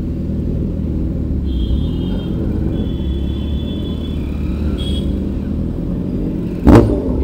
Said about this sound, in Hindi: ये देखो क्या ही प्यारा एग्जॉस्ट मारा है भाई ने, गाड़ी वाला भी साइड हो गया।